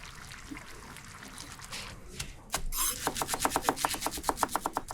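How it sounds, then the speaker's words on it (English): Tomato sauce poured into a pan while braising pork ribs, heard as a soft wet trickle that builds into a steady run of bubbling plops, close and alone. "Pour tomato sauce into the pan."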